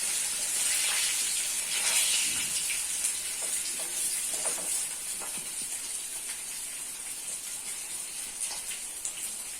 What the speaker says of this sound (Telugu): చేపలు ఫ్రై చేస్తున్నాను నేను. ఇది ఆయిల్లో వేస్తున్నాను ఈరోజు.